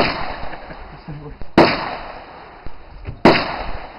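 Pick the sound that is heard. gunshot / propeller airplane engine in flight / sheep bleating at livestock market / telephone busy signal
gunshot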